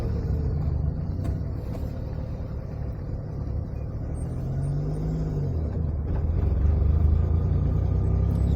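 A car climbing a gentle uphill in second gear gives a steady low engine rumble from inside the cabin, which swells slightly toward the end, with no talking.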